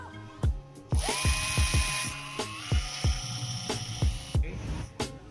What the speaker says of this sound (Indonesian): Sekarang kita akan bor.